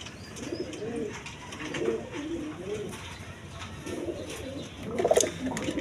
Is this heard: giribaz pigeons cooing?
yes